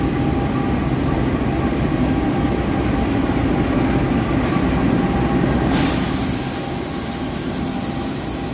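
The Mutiara Selatan train, bound for Surabaya Gubeng, rumbles loudly as it pulls into Solo Balapan station. A steady rolling roar is joined by a brighter hiss partway through, then eases slightly, with no talk.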